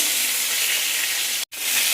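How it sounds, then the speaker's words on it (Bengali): A fish head fries in hot oil, giving a steady, bright sizzle that cuts out for a moment and then resumes. "মাথাটা একটু ভালো করে ভেজে নিচ্ছি"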